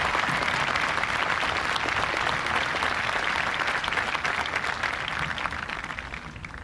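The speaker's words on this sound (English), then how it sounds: "please join me in a round of applause" A graduation ceremony crowd at Waynesville High School applauds in a dense, sustained burst of clapping that holds loud and even, then begins to taper toward the end.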